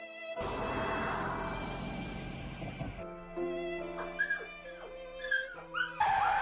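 A pug dog whimpers and gives high yips nearby. The soft whining comes in short, uneven bursts over a faint tonal background.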